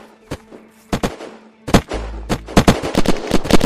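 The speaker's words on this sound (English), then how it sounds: "I hear shooting from your side" Gunfire in Unturned arena PvP, a string of sharp shots starting sparse, then coming in rapid irregular bursts, loud and close over a low hum.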